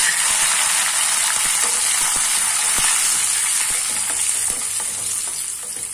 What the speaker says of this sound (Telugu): ఇండి పోపిలా ఫ్రై అయ్యాక ఇప్పుడు ఎండిమిర్చి కరివేపాకు వేసుకోవాలి.